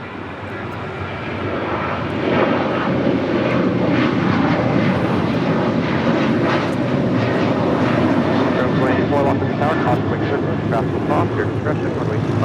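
A heavy American airliner on its takeoff roll from runway 25 right at Los Angeles International Airport, a loud sustained jet engine roar building and holding steady, with radio chatter faintly audible beneath.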